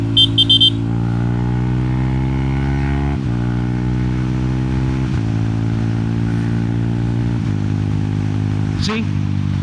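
A Yamaha XSR 155 motorcycle engine idles and revs with a steady, loud mid-pitched drone, its pitch climbing in repeated steps as the rider shifts up without the clutch, with a brief sharp chirp near the end.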